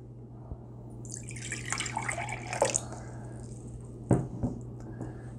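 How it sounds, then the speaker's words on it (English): Water pours out of a container holding 500 milliliters, a quiet trickling splash that builds over a few seconds, followed by a couple of short drips and splashes. "I'm going to pour some of it off."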